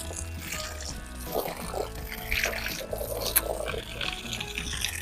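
Groundwater running from a tap at a ground-floor house in Kundrathur, Chennai. Faint, continuous splashing and trickling with a few louder drips and clinks mixes with low background noise and no voices.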